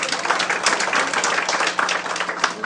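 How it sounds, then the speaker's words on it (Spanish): An audience at a forum on gender equity and women's rights in Papantla, Veracruz, gives warm, dense applause. The clapping stays lively and sustained throughout with no break. "un aplauso"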